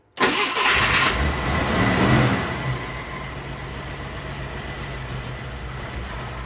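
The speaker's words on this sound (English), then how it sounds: "So, go ahead and start it. Give her a little gas." An AMC Eagle engine cranks and catches, with a loud burst of starter and firing that settles after a few seconds into a steady rough idle, close up.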